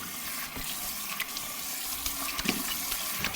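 Tap water runs steadily into a sink to wet a face before an Italian-style shave on a warm day, with a continuous close splashing rush and a few brief louder spatters.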